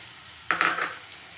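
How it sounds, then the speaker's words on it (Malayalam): Chopped green chillies drop into a pan of frying onion with a short, close burst of sizzling that quickly fades back into a low hiss. "ലൈറ്റ് കളർ ഉള്ളി വറുത്തതിന് ശേഷം അരിഞ്ഞു വെച്ചിരിക്കുന്ന ചില്ലി ഇടുക"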